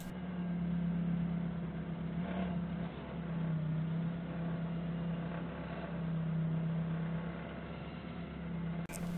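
A forklift engine idles and works steadily as its forks carry a truck cargo box (a farm storage top) to the right, a continuous low hum with slight dips in pitch, with no talk.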